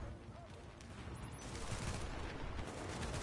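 Automated turrets fire in The Division, a video game, as a fusillade of rapid gunfire that runs under the talk and grows louder through the stretch.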